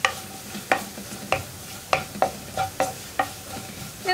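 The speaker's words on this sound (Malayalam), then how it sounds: "മസാലപ്പൊടിയും കൂടി ചേർത്ത് നന്നായിട്ടൊന്ന് ഇളക്കി മിക്സ്" Spice powder is stirred into chicken curry in a pan, a spoon scraping in repeated sharp strokes roughly every half second over a soft, steady sizzle, with no talking.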